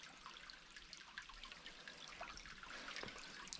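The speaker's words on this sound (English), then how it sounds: "it's just amazing the way that river meanders down there and just trickles over the edge of that" Small river trickling over an edge in a little waterfall, a steady close wash of water with soft splashing and dribbling throughout.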